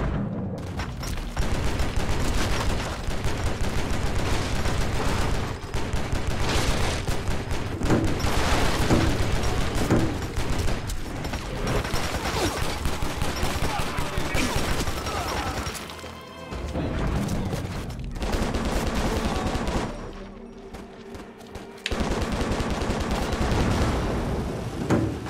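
A barrage super attack in the Stranglehold video game: sustained heavy gunfire mixed with smashing, shattering debris and booms, loud and nearly continuous for most of the clip with brief lulls.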